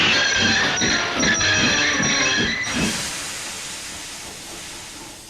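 A steam locomotive stuck on a hill gives a loud, steady hiss of escaping steam with faint rhythmic chuffing beneath, which breaks off and fades into a softer, continuous hiss.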